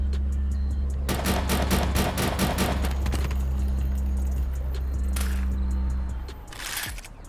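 Gunfire from guns in GTA VR, a rapid automatic burst of close, loud shots over a low steady hum, followed by a few scattered single shots.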